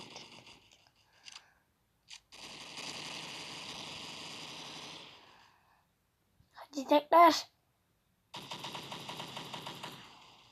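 MAC-10 submachine gun fire in a video game: one short burst, then a long sustained stream of rapid shots, a brief cluster of louder cracks, and another rattling burst near the end, with no talking.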